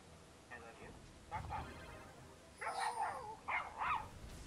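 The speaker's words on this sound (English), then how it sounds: "Someone's dog's fucking angry." A dog barks angrily in the distance, a few short yelping bursts and then a louder cluster of barks, faint against background noise during gameplay commentary.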